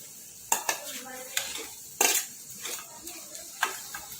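Potatoes going into a pan of frying ingredients for garlic batata vada, with several sharp clinks and scrapes of a spoon against the pan over a soft sizzle, fairly quiet and close.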